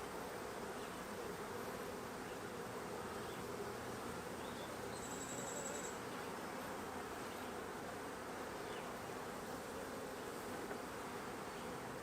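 Agitated honeybees buzzing at an open hive, a dense, continuous drone that stays loud and steady throughout with no talking.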